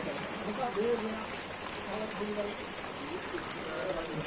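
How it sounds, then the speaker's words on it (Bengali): Heavy rain falls steadily outside a garage, a continuous hiss of drops on surfaces under faint voices talking nearby. "প্রচুর এখনো বৃষ্টি বন্ধ হয়নি"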